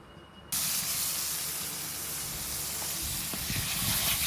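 Garlic paste, ginger paste, cumin powder, salt, cardamom and cinnamon frying together in a pan for a catfish curry, bursting into a loud, continuous hissing sizzle after a brief quieter moment, then holding steady to the end.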